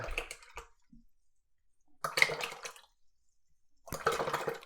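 A brush swished and tapped in water, three short bursts of splashing and clinking separated by quiet pauses, close and fairly soft.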